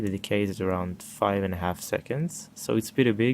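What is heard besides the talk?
No everyday noise stands out behind the speech.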